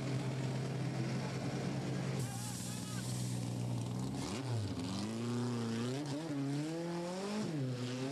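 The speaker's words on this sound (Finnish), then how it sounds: "Tämä näyte on Juha Pakarin ja Peter Sandénin Camaron renkaan vaihdosta." A Chevrolet Camaro race car in the pits during a 1987 race, shown during a tyre change. An engine idles steadily, then revs up and down in rising and falling sweeps, close and loud, with crew activity around it.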